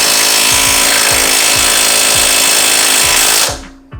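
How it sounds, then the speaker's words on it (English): Impact gun hammering on the bottom bolt of a coilover on an NA Miata, a loud close rattling burst with rapid rhythmic blows for about three seconds before cutting off abruptly. "So make sure you have a good impact gun or a good ratchet set that you have a little bit of torque leverage on so you can break that loose"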